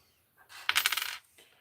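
Copper coins clink and clatter as a coin roll is emptied and searched, a quick burst of several close metallic drops followed by a faint final tap, with no talking.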